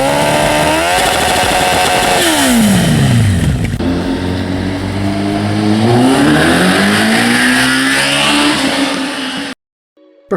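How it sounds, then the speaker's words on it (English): A Honda CBR 1000F motorcycle with a full aftermarket exhaust system revs hard and loud, the engine sweeping up and down through several throttle blips with a deep, beefy tone, then cutting off abruptly near the end. "Full aftermarket system in CBR is louder and sounds a lot beefier"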